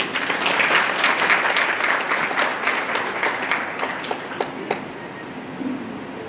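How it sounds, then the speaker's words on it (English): Applause from the audience at the opening of an international traditional grains conference, loud and dense at first, then thinning to scattered claps and fading over the last seconds. "I thought the applause was a bit short."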